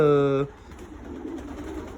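Racing pigeons coo once in a clear, fairly close harmonic call that ends abruptly, followed by quiet loft ambience.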